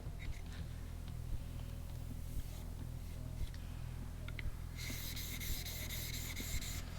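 A steel chisel rubbed back and forth across a sharpening stone in a workshop, giving a steady, close gritty rasping with regular strokes, followed by a brighter, harsher scraping burst near the end.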